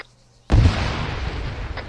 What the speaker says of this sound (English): blow up that last tower to the west